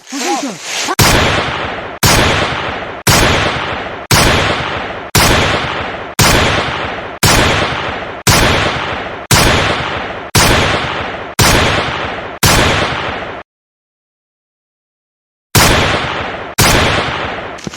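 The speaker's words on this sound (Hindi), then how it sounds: "अच्छा वो लोग गोली चला रहे" Loud gunshots ring out one by one at a steady pace, about a dozen in a row, then a short silence before two more blasts.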